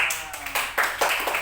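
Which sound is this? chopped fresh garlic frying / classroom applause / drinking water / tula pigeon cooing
classroom applause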